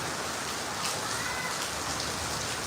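Heavy rain pours down at full strength, a steady dense hiss of drops drumming on surfaces, close and constant with no voices.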